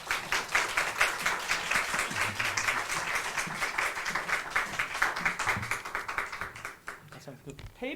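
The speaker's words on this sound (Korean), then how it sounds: "우리 박수로 목사님을 모시도록 하겠습니다" At a Wednesday evening church service, a congregation claps steadily to welcome the guest pastor. The dense applause runs for several seconds and eases toward the end, with voices faintly mixed in.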